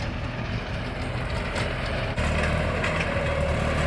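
A LOVOL 90 hp tractor engine runs at low revs while driving a rotary tiller on dry ground, a steady low rumble close by with a constant mechanical churn and no pauses.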